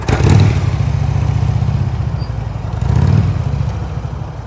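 A motorcycle engine putters steadily at low revs during slow-speed riding practice in Florida, loud and close, with a slight swell in throttle near the start and again toward the end, no talk over it.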